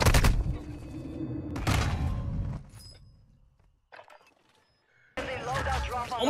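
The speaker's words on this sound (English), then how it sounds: "Oh my god, they're shooting at me!" Gunfire in a video game crackles in loud, rapid bursts under excited voices, then drops to near silence before another burst starts close by.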